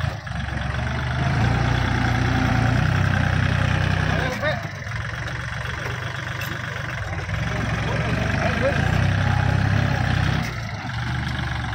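Kubota L4018 40 hp tractor engine, a model-year 2017 unit, idling with a steady low rumble and diesel clatter, while someone talks over it throughout.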